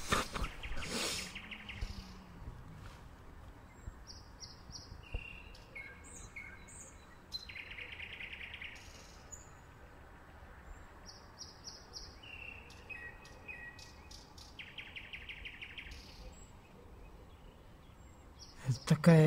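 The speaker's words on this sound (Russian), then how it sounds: "Это попугай" Parrot calling in a botanical garden, repeated bright chirping bursts scattered across the stretch, moderately near, over a low outdoor background with occasional handling noise.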